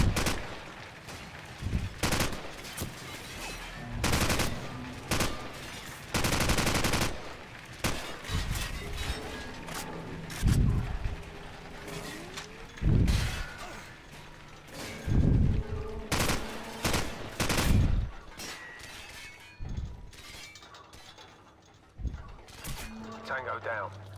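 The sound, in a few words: AK rifle gunfire in a video game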